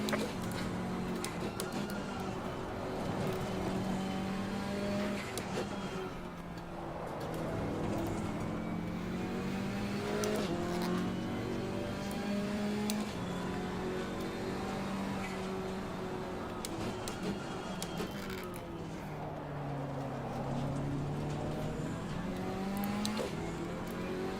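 KTM X-Bow GT4 race car lapping Suzuka in Assetto Corsa Competizione: a continuous close engine drone rising and falling with repeated gear changes and braking, plus occasional clicks and knocks throughout.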